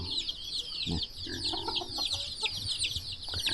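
Chickens cluck and call steadily around a rural village farm in Laos on a rainy morning, with bird chatter above and occasional low voices and movement nearby.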